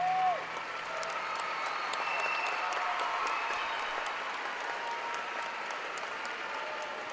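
A large arena crowd at the 2016 Canadian artistic gymnastics championships applauds and cheers a gymnast after her routine, a dense and steady wash of clapping heard from a distance that fades slightly over several seconds.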